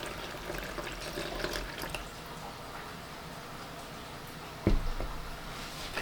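Boiling hot water pours steadily into a fruit fly culture container, a continuous splashing, trickling flow at close range that ends in a brief louder slosh near the finish, with no talking.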